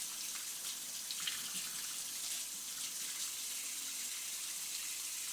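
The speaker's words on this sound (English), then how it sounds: "Gonna go wash my hands." Hands being washed under a running kitchen tap, a steady close hiss of flowing water with faint splashing, no voices.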